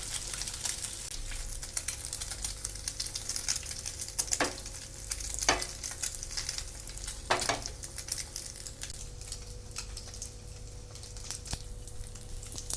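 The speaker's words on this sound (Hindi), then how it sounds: "अच्छे से डिप करके पैन में फ्राई करने के लिए डाल देंगे" Egg-coated bread frying in a pan gives a steady, close sizzle throughout, with a few brief louder spits and crackles standing out against the continuous hiss; no one speaks.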